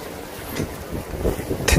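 Strong wind gusting across a mountain campsite on Sobaeksan, a close roaring rush with buffeting against the microphone and a sharper gust near the end, no voices.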